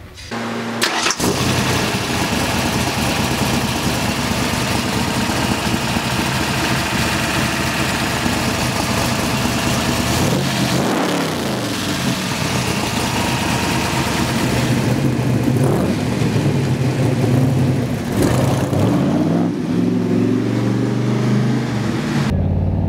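A 1965 Shelby Cobra replica, a Superformance MkI, runs loud and close for the whole stretch, its exhaust pipes roaring through steady throttle with two rising-and-falling revs partway through and no talking.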